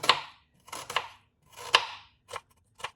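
A knife chops a peeled onion on a board in a home kitchen: three bursts of quick close cuts, each a short run of crisp strokes, with two lighter single chops at the end.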